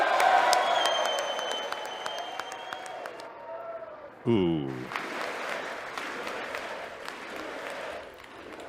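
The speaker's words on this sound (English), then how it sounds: "Not a lot of claps from the right of the room." An audience claps for the President in a large room, applause fading gradually, then a voice exclaims briefly before scattered clapping and crowd noise continue.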